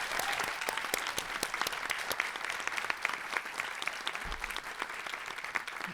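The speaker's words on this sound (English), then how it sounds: "Would you please give a round of applause to all of our panelists tonight?" At a startup demo day, an audience applauds panelists with brisk, close clapping that stays steady and lively throughout, with no speech over it.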